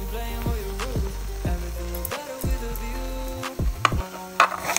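Marinated pork sizzling on a hot grill pan at a Korean-style home shabu and grill meal, a steady close frying hiss with scraping and clinking of utensils over it.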